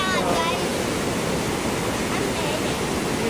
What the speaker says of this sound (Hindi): आपको दिखाते हैं बागेश्वर की गोमती सरयू नदी।